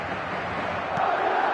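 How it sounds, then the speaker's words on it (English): Stadium crowd noise in a football video game featuring Atlético Madrid, a steady, dense roar of many voices that rises a little in the second half. "the crowd clearly like what they just saw"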